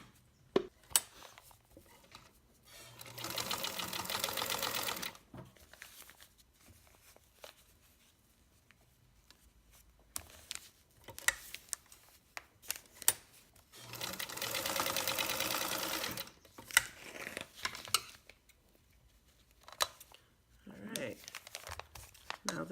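A domestic sewing machine basting garment straps in place, running in two sustained bursts with rustling and handling of fabric between them. Speech is heard in places.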